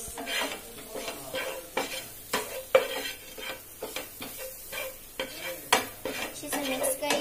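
A masala mixture is stirred in a pan with continual scraping and clinking strokes of a utensil over a light sizzle, brisk and close with no pauses.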